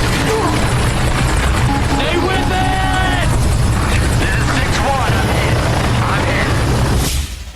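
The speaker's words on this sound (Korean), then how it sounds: "저 헬기가 블랙호크예요." A Black Hawk helicopter in a war film scene, its rotor a steady, loud, close roar throughout, with voices speaking over it before it cuts off near the end.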